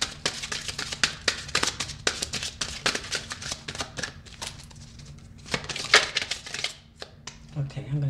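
Tarot cards shuffled by hand, a fast run of crisp riffling taps and flutters that slows and thins toward the end, close up while someone talks over it.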